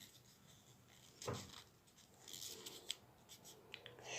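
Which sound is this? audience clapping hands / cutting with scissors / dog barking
cutting with scissors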